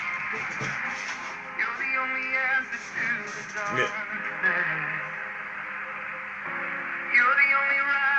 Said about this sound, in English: the station you're hearing now, the one that's playing the music